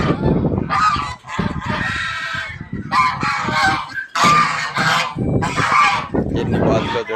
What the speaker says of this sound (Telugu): ఎన్ని బాతులు చూడండి